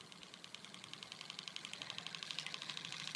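Homemade spinning ring-magnet DC motor with brushes starting up at low RPM, a faint rapid ticking whir that quickens slightly and grows a little louder, close and alone over background hiss.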